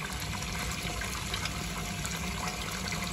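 A pump pushing water out of a barrel, heard as a steady rushing and gushing flow that stays constant and fairly close throughout, with no one speaking.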